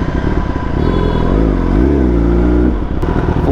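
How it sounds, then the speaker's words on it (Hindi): A Kawasaki ZX10R sportbike idling and revving briefly outside a showroom as it is parked, a steady close engine rumble with a short rise in revs midway. "गाड़ी खड़ी करते हैं"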